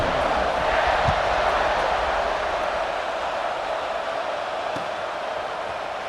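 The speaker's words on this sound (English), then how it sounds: "this crowd now ready to get behind them" A stadium crowd in the College Football 26 video game roars steadily at kickoff, a dense wash of cheering that holds loud and even throughout.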